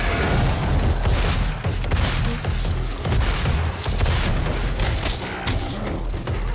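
Shotgun blasts and combat noise from the video game DOOM, Mission 3: Meltdown, a dense, loud run of booming shots and thuds filling the whole stretch with no pauses.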